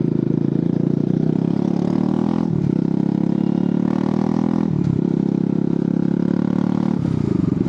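A Bajaj Pulsar NS200 motorcycle exhaust drones loud and close during a night ride, a steady low engine rumble with a few brief dips and rises as the throttle shifts.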